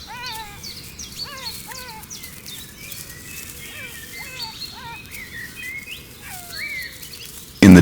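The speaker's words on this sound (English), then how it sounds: "the first insects of the day mingle with the bird song that echoes across the steppe" Birdsong rings out at dawn across the Botswana steppe: repeated whistled and chirping calls from several birds, some near and some farther off, over a steady low bed of insect hum and outdoor ambience.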